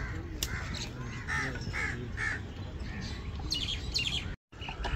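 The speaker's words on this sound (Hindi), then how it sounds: "परिंदे चहचहा रहे हैं" Crows cawing and small birds chirping in a village on a cool breezy morning, several overlapping calls near and far over steady outdoor background noise, with a brief dropout near the end.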